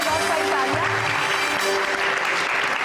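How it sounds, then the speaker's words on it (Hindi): Steady applause from a television studio audience, dense clapping holding at an even level throughout with some tonal background sound underneath. "अच्छा जी, इनके लिए बहुत सारी तालियां।"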